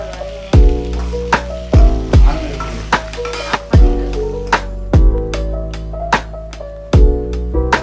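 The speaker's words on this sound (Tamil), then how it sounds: "சும்மா கொஞ்சம் வதங்கினா போதும் தக்காளி எல்லாம்" Tomatoes sautéing in a pan for a hotel-style coconut kara chutney, with a loud, steady sizzle broken by repeated sharp stirring clacks against the pan.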